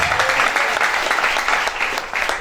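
A church congregation breaks into lively applause, many hands clapping close and loud in a dense, continuous burst with a slight rhythmic pulse.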